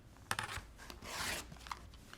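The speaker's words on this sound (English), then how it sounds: "So I'm gonna cut these on the diagonal." Scissors cutting quilt fabric pieces on the diagonal, close up, giving a few short rasping snips and one longer slicing rub.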